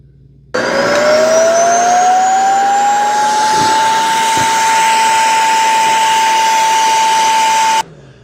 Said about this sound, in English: There's another vacuum going to kick on inside the dustbin that's going to suck everything out of here.